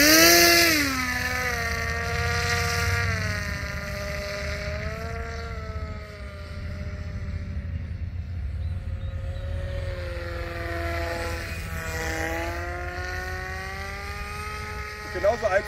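A Punkair Wave 3.0 RC trike takes off from a field, its motor whine holding steady, then rising and falling in pitch as the craft climbs and maneuvers, fairly loud throughout.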